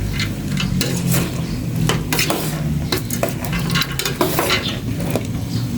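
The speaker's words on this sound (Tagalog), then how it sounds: "Eh, nagisa na rin maigi itong munggo." Mung beans being stirred and sautéed in a hot pan, making steady, close scraping and clattering over a continuous sizzle, with uneven bursts of stirring throughout.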